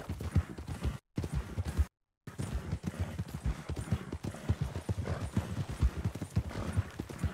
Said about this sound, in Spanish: definitivamente ese caballo corre mucho